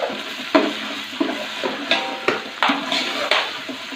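Kalonji chicken karahi cooks in a pan with onion, garlic and ginger, with close, rhythmic spatula scrapes and clanks about every half second over a low sizzle.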